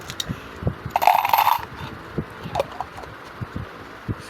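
A pile of coins poured out and handled, a brief bright metallic jingle followed by scattered light clinks and taps as the coins are moved around, close and moderately loud.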